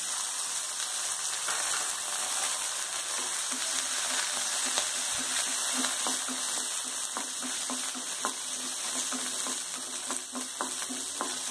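Garlic cloves sautéing in a pan until golden brown for a spicy garlic chutney: a steady close sizzle with scattered clicks from stirring, no voices.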